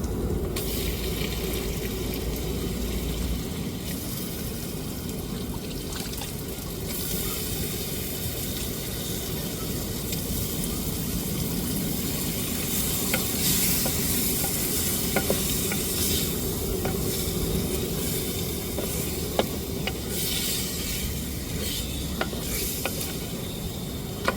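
Cleaned, cut quail pieces fry in a pan for a pepper fry, making a long, even sizzle close by with occasional stirring scrapes and small pops, and no talking.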